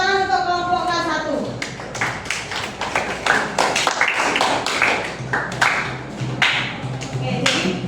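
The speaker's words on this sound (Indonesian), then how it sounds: "Tepuk tangan untuk kelompok K1." A classroom group claps briefly for presenting students, a short burst of scattered hand claps and taps nearby, with a teacher's voice and chatter talking over and around it.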